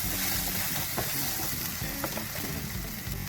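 Chana dal paste for kachori sizzles and fries in a pan with ginger and green chilli, a steady close-up crackle with occasional stirring scrapes and pops.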